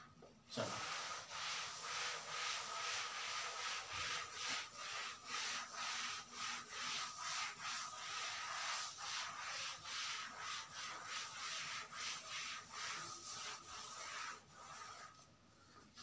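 A duster rubs writing off a board during a physics lesson, a steady close scrubbing with rhythmic back-and-forth strokes that runs for most of the stretch before easing off.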